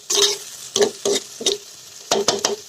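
Chicken with new potatoes being stirred in a frying pan over a village cooking fire, with repeated short scraping stirs and bursts of sizzling, six or so strokes in quick succession.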